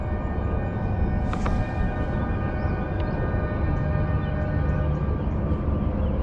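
Outdoor tornado warning sirens sound from a distance as a steady droning tone, faint beneath constant broadband wind-like noise throughout.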